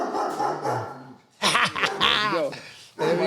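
Dogs bark in short bursts, with yips and whimpers mixed in and loud voices talking and cheering over them.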